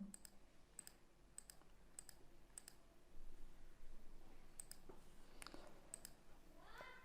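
Sharp mouse clicks on a computer while working in CorelDraw, a steady series of separate single clicks spaced about half a second to a second apart, close and fairly quiet, with faint room noise between.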